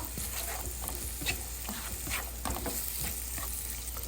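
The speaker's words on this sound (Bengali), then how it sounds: "পেঁয়াজটাকে আমরা গোল্ডেন করে ভাজবো" Onions fry in oil for an eggplant dish, giving a dense, close sizzle and crackle with rhythmic stirring scrapes throughout and no speech.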